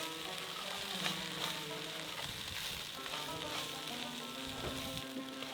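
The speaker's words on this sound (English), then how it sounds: "I'm gonna turn the fire off and just mix them." Kibbeh stuffing with sumac is stirred in a hot pan just after the heat is switched off, a continuous close sizzle broken by repeated scraping strokes of the spoon, with no talking.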